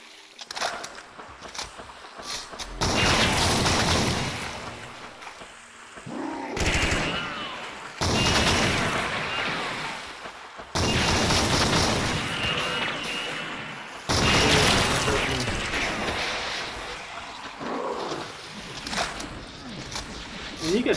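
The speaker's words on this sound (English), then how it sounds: "Plasma shells can bounce back and hurt you, so I'll show them off." A plasma shell weapon in Doom, played on the VKDoom source port, fires in several long, loud bursts of rapid blasts separated by short lulls, with someone talking between and under the shots.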